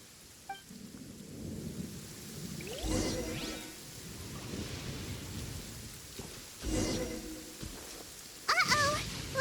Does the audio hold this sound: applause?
no